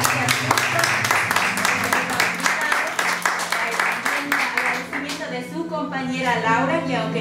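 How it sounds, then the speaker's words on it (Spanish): An audience at an Ecuadorian civic committee event in New York claps briskly, then the applause thins as music with a voice rises beneath it. "también un aplauso"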